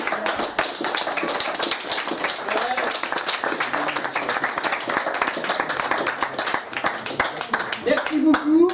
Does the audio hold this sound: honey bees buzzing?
no